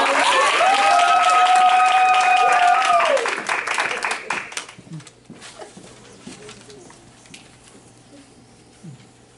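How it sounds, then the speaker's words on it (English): Audience hands clap at a church Black History program, a brief burst of applause heard under a sustained sung or spoken tone, then thinning into scattered claps and quiet room noise. "Let's clap your hands for them"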